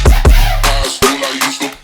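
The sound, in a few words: Serum synth with big reverb, remix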